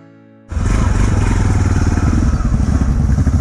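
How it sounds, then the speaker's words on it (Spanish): A motorcycle engine bursts to life after a brief quiet moment, then runs loudly with a rough, rapid chugging close by. "Me voy a andar en moto un ratito"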